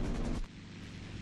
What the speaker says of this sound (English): You can see that secondary explosion.